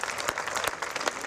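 Audience applause at an Italian political rally in the Veneto, a dense wash of many hands clapping at moderate loudness, steady through the moment with no voice above it.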